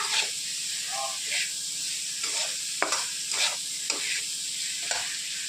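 Green peas sizzle and hiss as they fry in a pan while a spoon stirs them with soft rhythmic scraping, close and continuous, with faint background hum.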